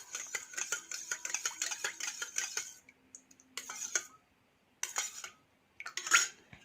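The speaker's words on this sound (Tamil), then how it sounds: "நல்லா மிக்ஸ் பண்ணி விட்டுருங்க." A utensil scrapes and clinks against a bowl while stirring homemade aloe vera gel, in quick rhythmic bursts, pausing between rounds of stirring, close and fairly quiet.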